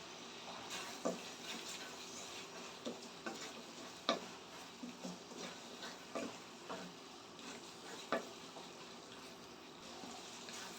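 Curry leaves dropped into a pan of cooking pasta sauce give a soft, quiet sizzle with intermittent scraping stir strokes and light clicks of a spoon against the pan.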